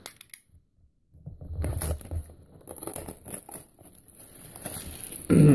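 Close-up crinkling, tearing and rustling as a 2014 Topps Triple Threads baseball card box is ripped open, a few sharp clicks at the start, then irregular paper and wrapper handling, ending in a louder burst.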